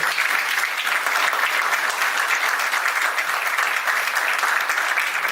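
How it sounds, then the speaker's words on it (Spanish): A seated audience at a book presentation of a local history of Pichilemu applauds steadily and loudly, a dense, even wash of clapping that continues for over five seconds without a break. "Démosle, por favor, un gran aplauso a don Antonio"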